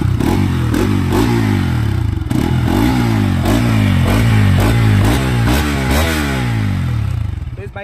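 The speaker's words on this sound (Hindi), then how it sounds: "मैं तुमको एक बार इस बाइक की आवाज़ भी सुनाता हूँ" A Bajaj Pulsar RS200 motorcycle engine and exhaust rev loudly and close up, a deep throbbing idle rising and falling through several throttle blips before fading at the end, with no talking.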